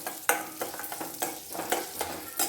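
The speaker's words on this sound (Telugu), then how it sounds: "అదే గిన్నెలో 2 స్పూన్లు పెసరపప్పు వేసుకుందాము. వేసి వేపుకుందాం." Moong dal frying in a dry pan for jaggery poha kheer, with soft crackle and repeated scraping strokes of a spoon stirring at a steady rhythm, close and moderately loud, no talking.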